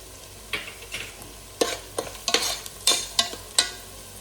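Onions with turmeric frying in a pan for a ghee roast, with a soft steady sizzle broken by several sharp stirring scrapes and clinks of a spoon against the pan, close and fairly quiet, no talking.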